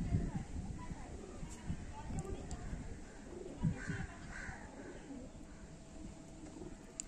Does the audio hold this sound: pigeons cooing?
yes